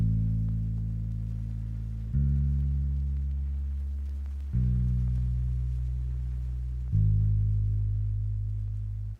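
A lofi bass line built in FL Studio for a sad song plays four long, sustained low notes following the root notes, each changing in pitch about every two seconds, steady and alone with no other instruments.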